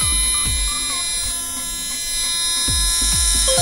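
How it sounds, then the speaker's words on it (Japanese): A 380-size electric motor in a Grasshopper RC car, powered by a 2-cell LiPo, spins at high speed with a loud steady electric whine and buzz, rising and falling slightly in pitch, with pulsing low thumps underneath. "いつも使ってるグラスホッパーに接続して回転を測ります。"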